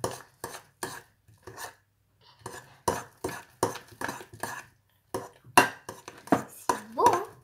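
Glue and activator being stirred into slime in a bowl, with a utensil scraping and clinking in a quick, uneven rhythm and short pauses between strokes, close by, while people talk softly.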